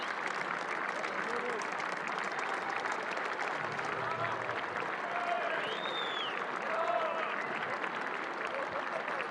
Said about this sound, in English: generously applauded by both sides